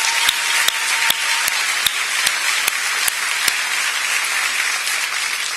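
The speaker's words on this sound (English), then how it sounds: "Could you give them another round of applause" Audience applause for the mayor and First Lady of New York at a children's mental health awareness event, a steady even patter of clapping with sharp periodic clicks cutting through.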